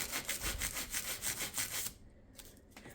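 Brush scrubbing crumbs out of a narrow crack in a kitchen fitting, a rapid rhythmic back-and-forth rasping up close for about two seconds, then a few softer strokes.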